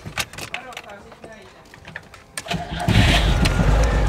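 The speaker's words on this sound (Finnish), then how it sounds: "kokeillaan laittaa auto käyntiin" A Lada car engine cranks and catches, then settles into a loud steady idle, after some quieter clattering and faint voices.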